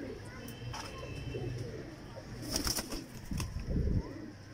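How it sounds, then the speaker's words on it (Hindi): Pigeons coo softly in a Lahore pigeon loft, low murmuring calls with a brief flutter of wings, faint beneath people talking close by. "कैसे शानदार कबूतर है।"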